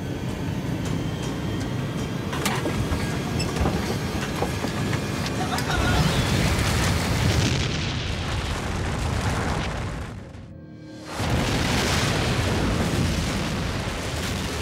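A massive volcanic eruption roars and rumbles continuously, loud and broadband, cutting out for a moment before the thunderous blast resumes.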